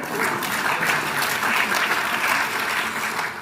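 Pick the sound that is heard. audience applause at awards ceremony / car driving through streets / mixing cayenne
audience applause at awards ceremony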